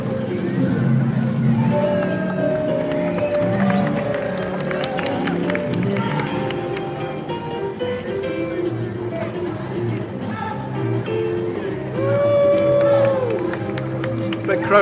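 A big crowd in Edinburgh cheers and claps in waves, swelling near the end, with close voices talking over the steady hubbub.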